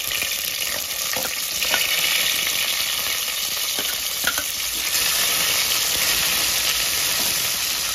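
Onions frying in oil in a pressure cooker with cumin seeds, curry leaves, garlic pieces and green chillies, giving a loud, steady close sizzle with faint stirring clicks throughout and no talk.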